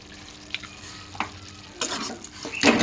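Duck eggs and bottle gourd sautéed with chili powder and green chilies sizzle softly in a pan, with a few sharp spatula taps early on and louder scraping stir strokes in the final second.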